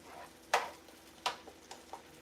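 A pot of mashed potato soup with cauliflower and parsley being stirred: a few soft scrapes and knocks against the pot, quiet and spaced out over a low background.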